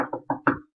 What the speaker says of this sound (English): Knock on the door here.